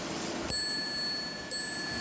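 A century-old antique Sessions mantel clock strikes its bell twice, each a bright, clear ring with a lingering metallic sustain, about a second apart, close by in a quiet room.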